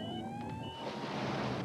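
An ambulance siren in a television commercial for AMCO transmission service, a rising electronic wail fairly loud and steady, fading into a broad wash of noise in the second half.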